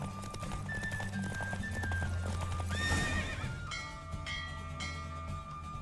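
A horse gallops in a race in The Witcher 3 video game, its hooves pounding steadily. A loud whinny and bursts of game music and effects rise over the gallop.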